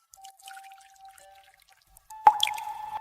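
Dissolved coarse salt water dripping through a strainer into a container, a quiet thin stream at first, then a louder burst of splashing drips and trickling near the end.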